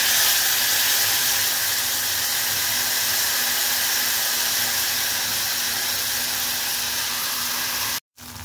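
Ginger paste frying in a pan, a loud, steady close-up hiss and sizzle that runs unbroken for several seconds before cutting off abruptly.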